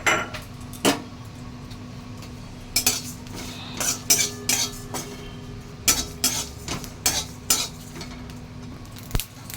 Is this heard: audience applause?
no